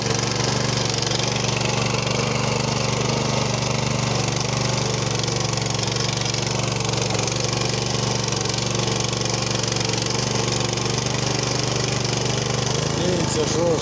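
Weima walk-behind tractor fitted with rotavators churning through soil while uprooting raspberry bushes, a steady loud engine drone with constant mechanical rumble throughout and no break.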